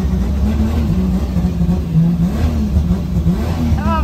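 A car engine revs hard and holds high during a drift on a track, with a loud, continuous roar that wavers slightly in pitch throughout.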